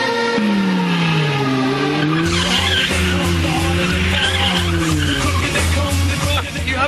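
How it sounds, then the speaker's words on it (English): Tires squeal steadily for several seconds as a car drifts during the Gumball 3000 rally in Serbia, with engine revving underneath and wavering pitch as the car slides. "I did a bit of drifting in Bam's car, look."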